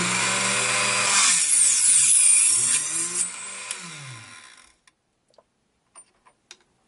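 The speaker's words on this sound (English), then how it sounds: "put this in either a bandsaw or some method" A bandsaw cuts through a .223/5.56 brass rifle casing at the shoulder, giving a loud, steady whining cut with shifting tones for about five seconds. It then stops, leaving near silence and a few small clicks.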